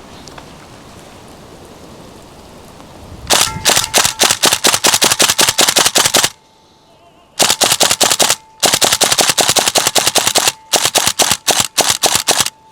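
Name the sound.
GHK AKM gas blowback airsoft rifle firing in dry fire mode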